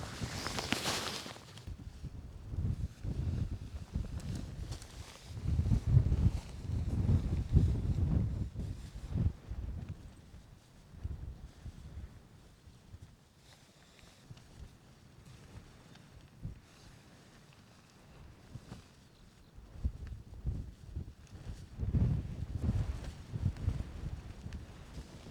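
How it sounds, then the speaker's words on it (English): Gusting wind buffets the microphone in loud rumbling waves on a Scottish mountain in rain, with quieter lulls and faint rustling between gusts. "it's brutal trying to pack away this wind and rain"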